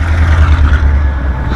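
An older Ford F250 pickup's engine rumbles loud and close, a deep steady drone that holds without breaks, with no talking.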